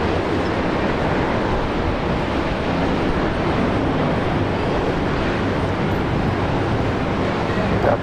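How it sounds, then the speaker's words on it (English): A Fokker 100 jet takes off at Brisbane Airport, heading for Newcastle, with a steady, loud broadband engine roar that holds constant throughout. "the Fokker 100 going down to Newcastle"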